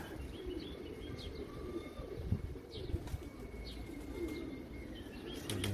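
Pigeons of a good, strong-blooded breed coo softly in a loft, with faint chirps and a brief flutter of wings against a low, steady background hum.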